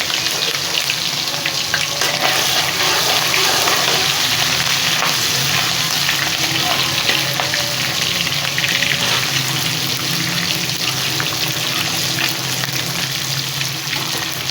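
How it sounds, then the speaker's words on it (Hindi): Ginger garlic paste frying in about a cup of hot oil, giving a loud, continuous, dense sizzle and crackle throughout with some stirring, close up and without speech. "1 कप ऑयल मैंने गरम कर रख लिया। अब इसमें अदरक लहसुन का पेस्ट डाल रही हूँ।"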